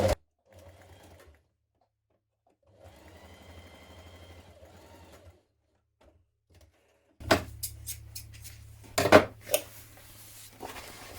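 A sewing machine stitches tote bag strap pieces together in short bursts: a soft whirring run, a longer steady stretch, then a louder, clattering run toward the end, with quiet pauses between.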